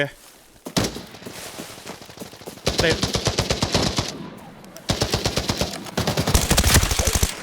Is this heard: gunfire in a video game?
yes